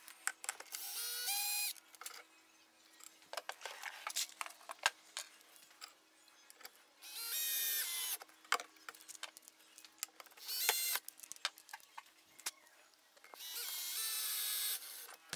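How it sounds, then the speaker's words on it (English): A powered driver backs out a soft brass screw and drives in the correct one on a DIY calibration frame, several short whirring bursts separated by quiet clicks and handling noises. "So let's pull that out and use the right screw."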